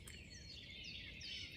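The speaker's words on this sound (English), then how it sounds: "The bird sounds are cool" Birds sing outdoors, high thin chirps and warbles drifting faint and distant over a steady low background rumble.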